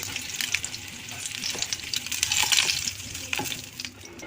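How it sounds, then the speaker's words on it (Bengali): An egg fries in hot oil, giving a steady crackling sizzle with bursts of spattering that rise and fall while it is turned in the pan, close up and without talk. "ডিমটা লাল লাল করে ভেজে নেব, উল্টে পাল্টে নেব।"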